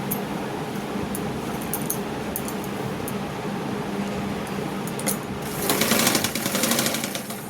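Sewing machine stitching a blouse lining, a fast steady mechanical rattle running close and continuous, growing louder and busier for a short stretch near the end.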